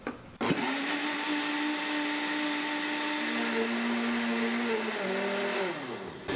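An electric blender mixes pudding batter with eggs, starting abruptly and holding a loud, steady motor whine and churning roar for about six seconds before the pitch dips as it winds down, with no voices.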